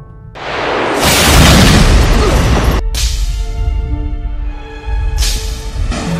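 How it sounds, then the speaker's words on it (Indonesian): A spaceship engine explodes during a launch to Mars, a massive booming blast that swells into a long roaring rumble, followed by a second loud burst. "ketika mereka mencoba meluncur ke Mars, tiba-tiba saja mesin kapal itu meledak"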